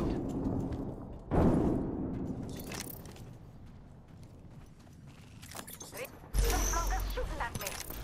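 A grenade explodes in a first-person shooter, a loud broadband burst around 1.3 seconds and another sharp blast near 6.4 seconds, set amid gunfire and game noise.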